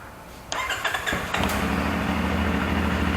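A 450 NK motorcycle engine cranks with a few sharp clicks and then catches, settling into a steady, close, throbbing idle that continues to the end without speech.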